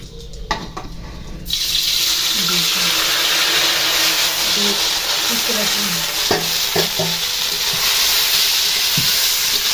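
Ginger dropped into hot oil and ghee for a homemade cold remedy bursts into a loud, continuous sizzle after a short quiet moment, with faint stirring clinks scattered through it.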